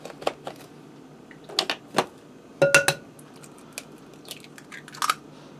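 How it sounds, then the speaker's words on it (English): An egg is cracked into a bowl of meatball mixture of ground meat and Italian seasoned breadcrumbs: several close, sharp taps and crunchy cracks in uneven bursts, with quiet gaps between. "And I'm going to crack 1 egg in there."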